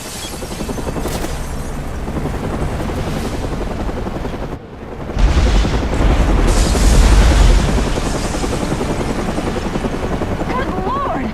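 A massive explosion rips through the Gotham Royal Hotel in Batman: Arkham Origins, a loud low boom bursting in midway over steady rotor-like roar and gunfire-like crackle, with voices talking throughout.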